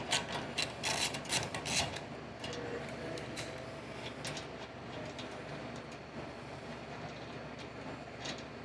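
Wrench loosening the front wheel axle on a Janus 250 motorcycle, with a cluster of sharp metallic clicks and clanks early on, then quieter mechanical rattling and shuffling, fairly close and faint, with no talk.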